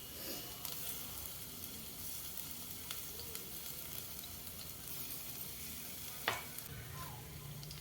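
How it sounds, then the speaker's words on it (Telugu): Crushed garlic crackles and sizzles in hot ghee while a moong dal rasam is prepared, a steady dense frying hiss lasting throughout with a brief sharper burst near the end and no talking. "వేడయింది నెయ్యి దీంట్లో వెల్లుల్లిపాయలు వేద్దాం"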